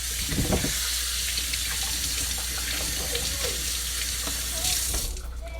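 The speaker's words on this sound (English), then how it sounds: "let me start the water" Kitchen tap water runs steadily into a sink as a continuous hissing splash, close and fairly loud, with faint clatter near the end.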